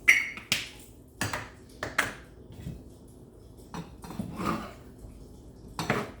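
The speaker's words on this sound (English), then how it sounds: "Just keep mixing it." A utensil repeatedly scrapes and clinks against a pot while food is mixed, irregular metallic taps and rings spaced through the passage, close and fairly loud with quieter stirring between.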